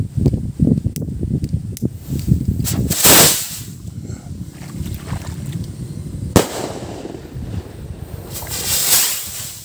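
A large, locally made Zamboanga firecracker is lit in a windy, flooded spot. A roaring burst is followed a few seconds later by one sharp, loud crack, both heard against steady gusting wind.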